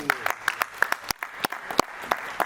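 A congregation at a church wedding ceremony breaks into applause, a run of sharp, fairly close claps in an uneven rhythm with a voice briefly heard beneath.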